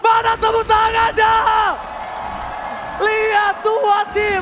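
Crowd at an esports playoff match cheering and whooping in loud bursts, with a pause mid-clip before the noise swells again; a commentator calls out over the din.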